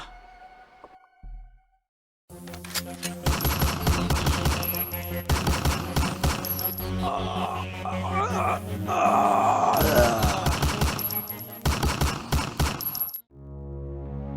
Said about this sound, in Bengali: গুলি চালা